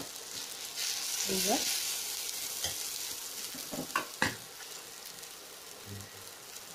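Pea paste frying in a spoonful of oil in a pan, a soft steady sizzle with a few scraping stirs and clicks, close by, with a brief spoken word.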